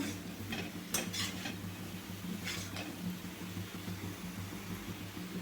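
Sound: stirring potato fry with garam masala in a pan

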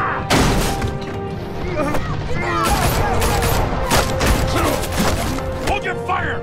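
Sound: gunfire in the Batman Telltale Series video game

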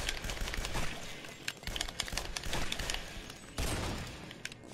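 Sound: shotgun gunfire in video game Guns Gore and Cannoli

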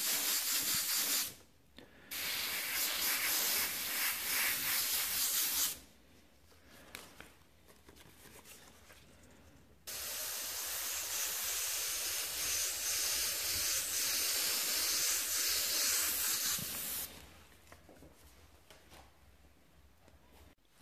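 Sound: airbrush spraying paint on a mural

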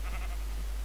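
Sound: sheep bleating in Minecraft video game

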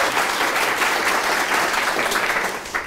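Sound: applause

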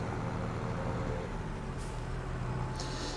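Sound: truck pulling up with air brake, Farming Simulator 23 video game

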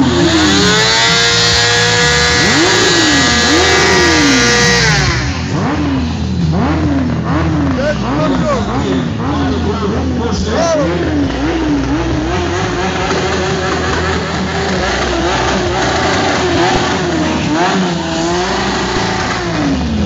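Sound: motorcycle engine revving at moto meet

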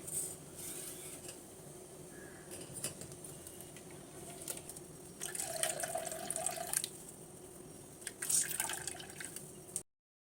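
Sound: coconut milk being squeezed and strained from ground coconut

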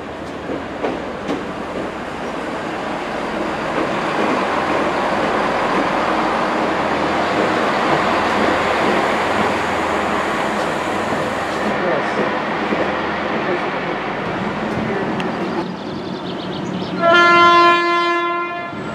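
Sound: train passing at Didcot Parkway station

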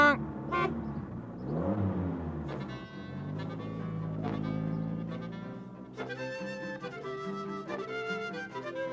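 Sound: cartoon dinosaur imitating a car horn

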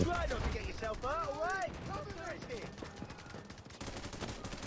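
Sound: gunfire in the video game Delta Force

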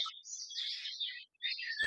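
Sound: birdsong in an outdoor recording

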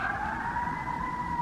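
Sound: emergency vehicle sirens in the city

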